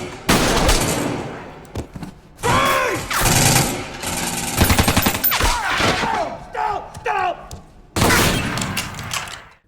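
Gunfire in a police shootout from a heist film, with dense bursts of rapid shots and heavy impacts recurring across the clip, mixed with shouting and action score.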